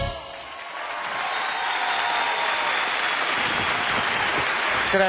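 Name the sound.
audience applause at a live show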